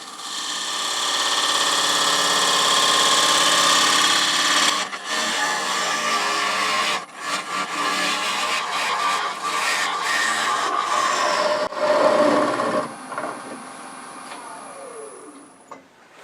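A bowl gouge cuts a rare cherry burl bowl blank spinning on a wood lathe, giving a loud, continuous scraping hiss that breaks off briefly a few times and then tapers away near the end.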